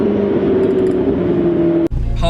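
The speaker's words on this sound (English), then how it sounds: "It's got the sports exhaust, which makes a big difference to the noise." A McLaren 12C fitted with the sports exhaust idles and hums steadily with a low, loud drone, then a brief cut is followed by a deeper rumbling burble.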